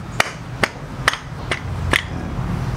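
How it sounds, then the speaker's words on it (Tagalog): Five sharp metal hammer strikes land on the centre of a Honda Click 150i CVT clutch, evenly spaced about half a second apart, loud and close with a bright ringing clank. "Pupukuin mo siya sa gitna."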